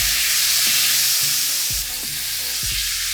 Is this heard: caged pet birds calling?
no